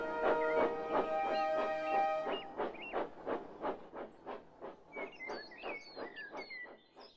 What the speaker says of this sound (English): And Molly puffed quickly out of the coaling plant